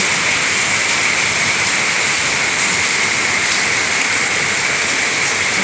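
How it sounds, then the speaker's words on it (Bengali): A loud, steady rush of rainwater pours continuously down a drain, dense and unbroken like heavy runoff gushing, with no voices. "এই দেখো ড্রেন কীরকম হুলু শব্দে জল যাচ্ছে"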